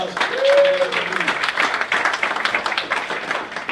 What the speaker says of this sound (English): Big round of applause for all the leadership here.